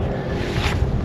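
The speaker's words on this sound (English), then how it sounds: "it's starting to be a little bit windy." Brief gust of wind blowing outdoors in harsh weather, a soft broadband rush that swells slightly midway through a short moment.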